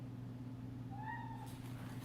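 A single short meow from a cat named Boots, rising and falling over a steady low hum, fairly faint and alone.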